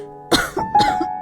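A single person coughing and clearing the throat, two short rough bursts close to the mic with a brief gap between them, heard alone.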